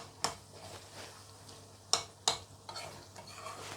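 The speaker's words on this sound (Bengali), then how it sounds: "এখন আস্তে আস্তে ডিম জালে এটা ভাজবো।" Puti fish chapa with egg fries quietly in a pan, a low sizzle punctuated by several sharp metallic clinks of a utensil against the pan, close by, with no talking.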